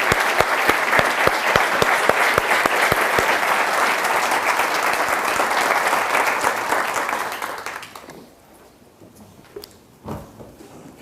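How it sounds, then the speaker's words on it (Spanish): An audience at a talk on preventing explosives accidents claps loudly and steadily for about eight seconds, then the applause fades out to near quiet with a few last scattered claps. "voy a pediros que le deis un aplauso a mis padres"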